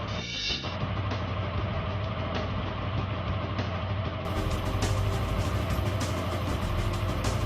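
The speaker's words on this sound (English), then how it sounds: "Check the engine idling speed and adjust to specification if necessary." A Yamaha R15 motorcycle engine idles steadily at close range, a continuous low, even rumble with no revving.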